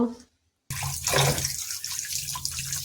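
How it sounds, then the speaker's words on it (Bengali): Running tap water splashes steadily into a sink as raw chicken is washed by hand, starting after a brief silent gap and continuing with sloshing and handling sounds, with a voice faintly present. "সুন্দর করে আমি ধুয়ে নিচ্ছি"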